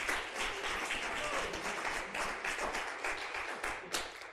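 An audience applauds steadily, many hands clapping in a continuous, moderately loud burst throughout.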